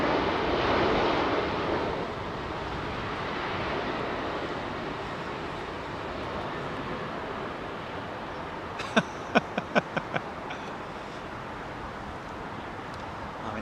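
Airbus A380 landing at London Heathrow gives a broad, steady engine roar that slowly fades, with a brief burst of sharp knocks near the end.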